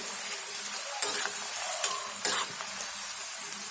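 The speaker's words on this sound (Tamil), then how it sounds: "வெந்துருச்சு, நல்லா கிளறி விட்டுக்கலாம். நல்லா திருப்பி விட்டுக்கணும்." Spiced cauliflower being stirred and turned in a frying pan, a soft steady sizzle with a few sharp scrapes and clinks of the spoon against the pan standing out now and then.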